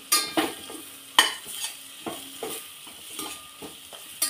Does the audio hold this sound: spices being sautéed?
yes